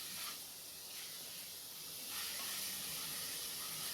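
Bread upma with tomato cooks in a pan, giving off a soft, steady sizzle and hiss that swells slightly partway through, quiet and close.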